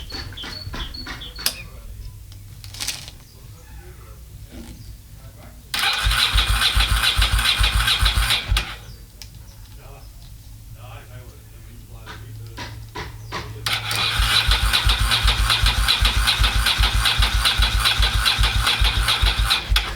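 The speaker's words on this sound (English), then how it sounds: "I cranked it a couple of times, it went around a couple of times, and then it killed itself." A motorcycle with a flat battery is cranked over twice, each burst of loud, mechanical churning running a few seconds before cutting off, with quieter gaps of faint background noise between attempts.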